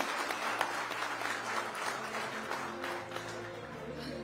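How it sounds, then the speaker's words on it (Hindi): A studio audience at a televised political interview session applauds loudly for Samajwadi Party leader Akhilesh Yadav, with dense, sustained clapping that fills the room throughout. "जोरदार तालियां समाजवादी पार्टी के सुप्रीमो अखिलेश यादव जी के लिए"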